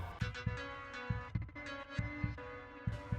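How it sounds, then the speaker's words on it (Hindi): A fast, heavy heartbeat sound effect thumps in steady double beats, low and booming, set against a faint sustained eerie tone in a horror story, with no voices. "धड़कन तेज हो रही थी।"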